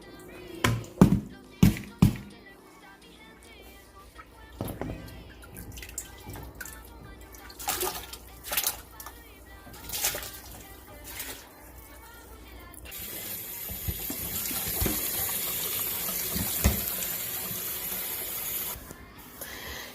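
Tap water runs over pig feet and tripe being rinsed for menudo in a kitchen, starting with splashy knocks and drips, then settling into a steady hissing stream near the end.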